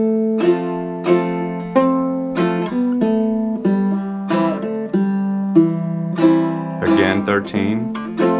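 A baritone ukulele plays the melody of Silent Night, measures 9 to 16, in clear plucked notes with a steady gentle rhythm, ending in a quick strummed flourish.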